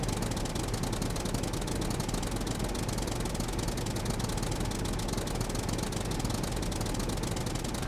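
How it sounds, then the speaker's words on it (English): A tractor engine drives along in the Scum video game, a constant rough, knocking rumble with a rapid mechanical beat that holds steady throughout, close and alone. "And doing a lot of driving in a tractor."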